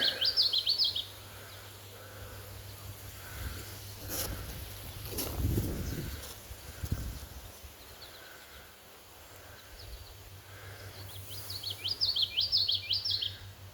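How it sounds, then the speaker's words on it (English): Songbird chirping in a summer garden, bursts of quick high trills at the start and again near the end, faint and somewhat distant over quiet outdoor ambience with soft rustling in between. "I wonder what that bird is"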